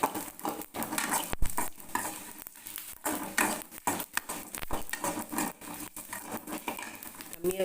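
Masala spices fry in a little oil in a pan while being stirred, making close, choppy scraping and clattering with sizzling underneath and short gaps between strokes.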